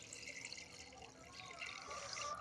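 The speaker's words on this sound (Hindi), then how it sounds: "वही गाजरों वाला पानी है जो जिसमें हमने गाजर उबाली थी, इसके अंदर ऐड कर देंगे" Carrot-boiled water being poured into a jar of Sindhi-style carrot pickle, a soft steady liquid splashing and trickling close by, fairly quiet and continuous with no talking.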